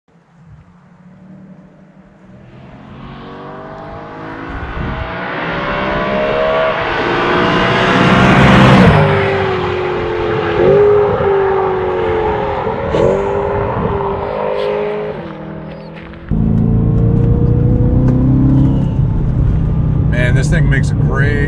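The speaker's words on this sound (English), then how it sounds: "This thing makes a great sound. Oh, that downshift is phenomenal." A BMW M3 E92 engine climbs in pitch through a loud, sustained rev, then pops and blips through a downshift before settling into a deep, close drone.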